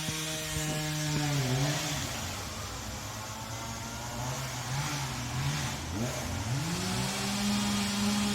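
Chainsaws drone and rev, their pitch rising and dipping repeatedly, fairly distant and steady, with no voices over them.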